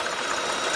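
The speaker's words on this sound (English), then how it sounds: "Now if you don't have any mixer like what I'm using right now" An electric mixer whipping batter for banana pancakes until it turns white, a dense steady whirring hum, loud and close, running without pause.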